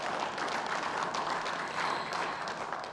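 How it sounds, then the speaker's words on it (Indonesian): Applause at a regency public debate in Teluk Bintuni fills the hall for candidate pair number two, a dense even wash of many hands clapping throughout, fairly distant and steady. "saya boleh minta tepuk tangan untuk pasangan calon nomor urut 2"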